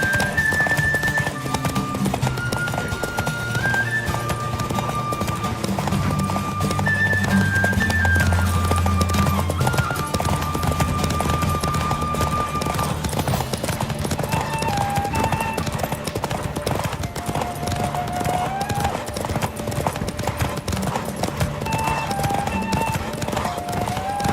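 A horse gallops in The Witcher 3 video game, its fast, even hoofbeats pounding steadily throughout, mixed with the game's music.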